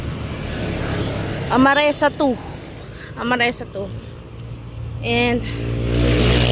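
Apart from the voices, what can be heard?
fast cars and motorcycles passing on road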